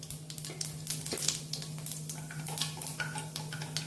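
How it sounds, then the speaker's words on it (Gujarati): Cumin seeds crackle and pop in hot oil close by, a steady sizzle broken by quick bursts of spluttering, with no voices. "જીરું ફૂટી જાય ને આપણે અંદર લસણ એડ કરી દઈશું।"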